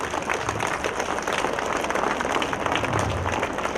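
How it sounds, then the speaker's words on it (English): Children applauding at a school talent show, a dense, sustained wash of many small hands clapping at once, loud and close, steady without a pause. "Children, big round of applause."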